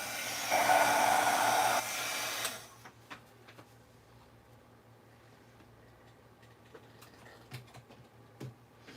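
A heat embossing tool blows a steady, loud, hissing rush of hot air onto embossing powder on paper for about two seconds, then cuts off, leaving a quiet room with a few faint clicks and taps.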